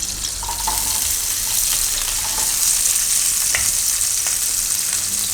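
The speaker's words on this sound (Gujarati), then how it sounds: "એમાં આપણે આ લસણને મરચાં નાખી અને ડુંગળી" Garlic, green chillies and onion sizzle steadily in hot ghee in a pan while making a vegetable gravy pasta, a continuous close frying hiss with a few soft stirring scrapes and no talk.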